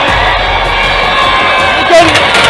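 A crowd gathered at India Gate cheers and shouts in celebration of India's Champions Trophy final win over New Zealand, a steady roar of voices close by.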